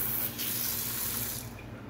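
A kitchen sink faucet with a sprayer runs water in a steady hiss that drops slightly in brightness near the end, close and fairly loud in an empty apartment.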